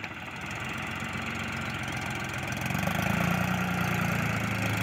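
A 50 HP New Holland 3630 tractor pulls a loaded trolley at slow speed, its diesel engine chugging steadily and growing louder and deeper partway through.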